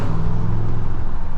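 A 2022 Ram 1500 Sport GT pickup's engine pulls in sport mode, giving a loud, steady low rumble from inside the cab with a faint rise in pitch, and no voices.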